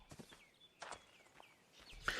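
Footsteps of a character walking in the video game Ark: Survival Evolved, a few soft irregular steps at normal pace, faint and close, with brief game ambience around them.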